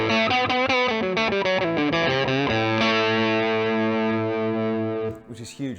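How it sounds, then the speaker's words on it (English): Electric guitar through a Great Eastern FX Small Speaker Overdrive set for a thick fuzz tone, playing loud sustained chords and a descending riff, close and saturated, ending with a brief noisy tail. "what I really like to use it for is more of a kind of fuzz sound"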